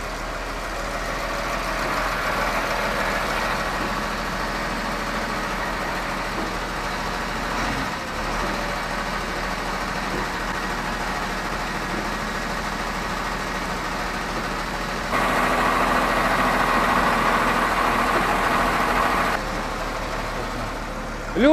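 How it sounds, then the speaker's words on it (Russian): A used front loader's diesel engine runs steadily for the whole stretch, moving forward on its brakes and then reversing, with a rise in engine level partway through, and no talk. "Для этого попробуем двигаться на тормозах вперед,"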